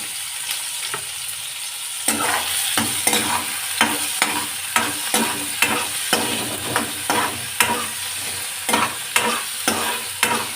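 Green chillies frying in a pan give a steady sizzle with regular scraping stirs, about two per second, close and fairly loud with no talking.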